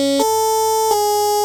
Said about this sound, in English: So I've imported my kick drum.